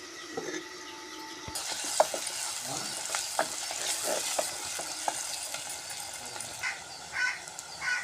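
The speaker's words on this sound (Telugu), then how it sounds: "మరి పైన ఇలా తిప్పుకోవాలండి మాడిపోకుండా." Mutton with fenugreek leaves frying in a pan while it is stirred: a steady sizzle with scattered scraping clicks and knocks from the utensil, close and moderately loud, with no talking.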